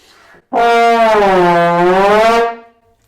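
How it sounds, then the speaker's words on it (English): A single sustained brassy trombone note, loud and steady for about two seconds with a slight wavering pitch, then it stops. "So at the moment, I've got it in normal trombone mode."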